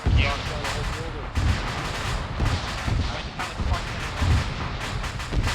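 Heavy booms and explosive blasts repeat irregularly during military detachment training, each a loud low thump, amid wind noise and people talking in the background.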